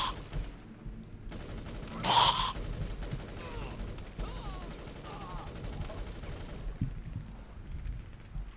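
Bursts of gunfire in a zombie survival video game, shots crackling through a busy mix with one loud blast early on and steady game noise throughout.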